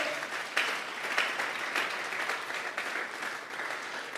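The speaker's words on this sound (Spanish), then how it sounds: "Regálale ofrenda de palmas al Dios de la gloria." A church congregation applauds together, a dense steady wash of hand claps with a few louder bursts, filling the room on its own for several seconds.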